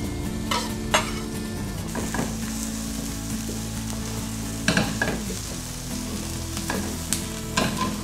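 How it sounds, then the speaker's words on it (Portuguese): Chopped onion frying slowly in a pan over a lowered flame, giving a steady soft sizzle with occasional scraping stirs and light clinks of a utensil against the pan. "deixar a cebola dourando devagarinho"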